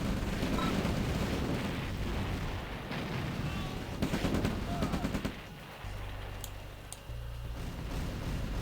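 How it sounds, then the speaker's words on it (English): Defensive power bomb explosions in a real-time strategy video game, rapid bursts of gunfire-like crackling and booms layered over continuous battle noise, with a low tonal hum later. "Wow, defensive power bombs."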